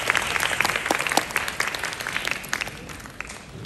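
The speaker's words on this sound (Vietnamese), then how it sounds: "Một tràng pháo tay dành cho những người bạn của anh và Vĩnh Linh đã xuất hiện trên sân khấu ạ" Audience applauding a Vietnamese stage show as the host thanks friends of the performers on stage; dense clapping fills the stretch at steady volume before thinning slightly toward the end, with no talk over it.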